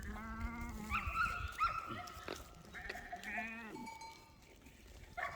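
Goats bleat in a farm setting, several harmonic, quavering calls in overlapping succession at moderate distance, with a brief sharp clatter in between and no talking.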